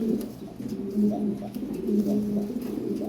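Lahori Siraji pigeons in a loft cooing in close, repeated low warbling phrases, several overlapping calls in a steady rhythm with no talking.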